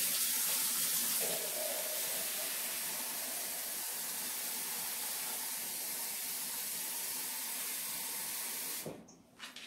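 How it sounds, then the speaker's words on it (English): Kitchen tap runs in a steady, hissing stream while water is added to dumpling dough for Jamaican fried dumplings, continuous and close, cutting off near the end. "And then I'll be adding water."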